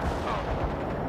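Payload bombardment explosions in the war game World in Conflict, a dense, loud roar of blasts and gunfire filling the whole moment with no pause.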